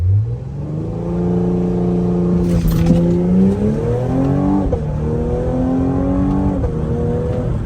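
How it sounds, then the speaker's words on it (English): A Cadillac CT5-V makes a launch-control start, its engine revving hard and climbing in pitch through several quick upshifts. The roar is loud and close, as heard from inside the car, with no one talking. "That launches, it puts you back in the seat, especially the first to second shift."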